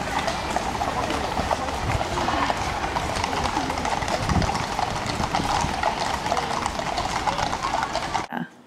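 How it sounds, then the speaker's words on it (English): Horses' hooves clip-clop on pavement as mounted guards ride through London, a continuous busy patter of hoofbeats set in outdoor street ambience, moderately distant and steady throughout. "we saw some random guys on their horses"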